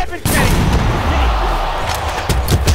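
A bomb explodes in the Brawlhalla video game, a loud booming blast with sustained rumbling and crackle, mixed with excited game action.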